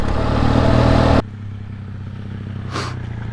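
A roughly 100–110 kg trail motorcycle climbs a steep high-country track. Its engine roars loudly for about a second, then drops abruptly to a low, steady rumble, with a brief rise near the end.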